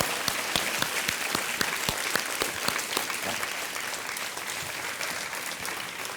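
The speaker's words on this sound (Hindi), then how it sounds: "एक बार फिर ज़ोरदार तालियां अर्चना के लिए।" Loud, sustained applause from a television game-show studio audience for a contestant named Archana. Many overlapping claps form a thick, even roar, with some sharper rhythmic claps standing out near the start.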